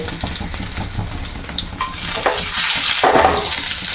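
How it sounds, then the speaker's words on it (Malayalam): Washed rice frying in hot oil in place of mustard seeds, a steady close sizzle and crackle that grows louder and brighter partway through, with no talking. "അരി ഇട്ട് കൊടുത്തിട്ടുണ്ട്. പൊരിഞ്ഞ് വരും അരി ഇടുമ്പോഴേ."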